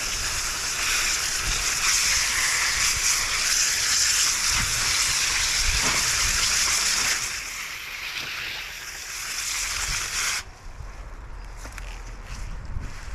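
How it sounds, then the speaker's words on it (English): Water running and splashing over freshly harvested greens on an outdoor wash table in Central Texas, a steady loud broadband rush that drops off and turns patchier near the end. "Gonna do a pre-rinse."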